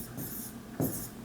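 A marker or chalk writing on a classroom board, a short close scratchy stroke with a sharper tap partway through, heard alone.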